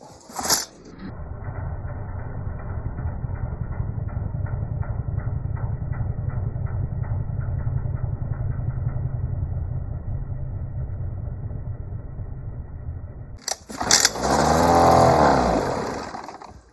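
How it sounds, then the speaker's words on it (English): An old Mercury 110 9.8 HP outboard boat engine runs steadily at a fast idle for about twelve seconds, then cuts off abruptly; a brief hiss and rattle follow. "I got the engine running somewhat decently well"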